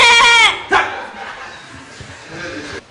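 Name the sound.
person imitating a Hausa goat bleating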